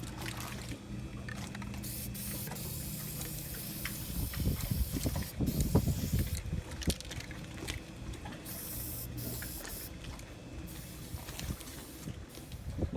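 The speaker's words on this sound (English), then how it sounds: "So we're going to go ahead and spray all the rust spots." An aerosol can of rust inhibitor and sealer hisses steadily while being sprayed onto rust spots on a concrete yacht club seawall outdoors, a continuous close spray with brief pauses and no talking.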